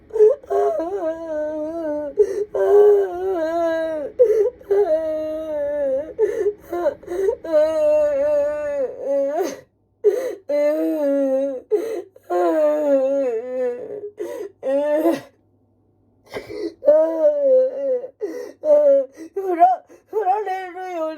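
Adult crying loudly over a broken refrigerator, long wailing sobs with whimpering, pitch-bending cries broken by short gasps and pauses, close and alone.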